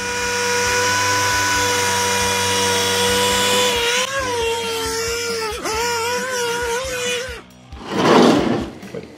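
A power sander works over motorcycle seat foam, giving a loud, close motor whine with a shifting pitch and rough scuffing, then ending in a short burst of harsh rasping.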